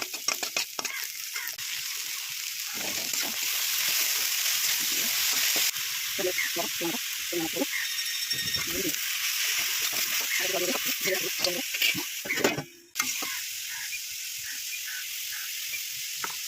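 Garlic and green chilli sizzle in a pan as poppy seeds are added for a red spinach dish, with a bright crackling hiss and rhythmic stirring scrapes, while a voice talks over parts of it.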